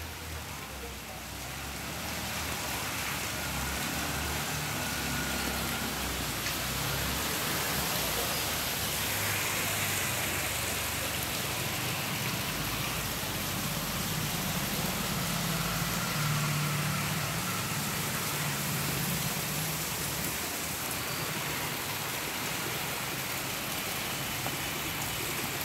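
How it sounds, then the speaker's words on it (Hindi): Heavy rain pours down in a steady, dense hiss that continues unbroken throughout, with low rumbling underneath and no clear speech. "आज अल्लाह पाक ने दिल खोल कर जम कर बारिश की है।"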